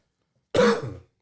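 A single short, close cough, harsh and throaty, like a quick throat clearing, alone against silence.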